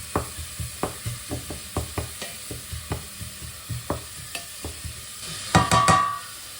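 Vegetables and garlic sweating in a pot for a vegetarian green sorrel borscht, stirred with steady, evenly spaced scrapes under a soft sizzle, ending in a brief louder clatter; no talking.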